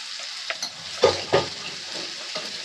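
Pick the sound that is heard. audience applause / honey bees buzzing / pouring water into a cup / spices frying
spices frying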